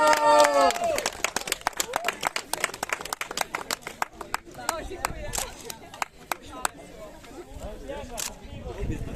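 Scattered clapping from a small crowd after a winner is announced at the EkoBieg trail race in Ulucz, with sharp irregular claps over murmuring voices and a brief voice at the start.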